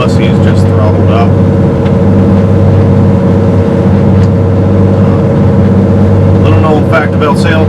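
A motorboat engine throttles up on leaving a no-wake zone, a loud steady drone with wind and water noise throughout and a person talking over it.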